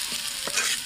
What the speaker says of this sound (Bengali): পেঁয়াজটা ভালোভাবে ভাজা করে নেব।